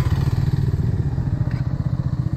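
Four motorcycles, including a Pulsar, an XCMA and a CBR, ride together on a road trip, their engines making a loud, close, continuous throbbing drone throughout.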